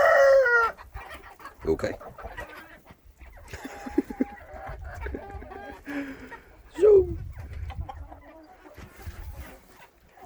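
Chickens in a coop cluck and squawk in bursts close by, with a rooster-like crow among them, while a person talks briefly between the calls.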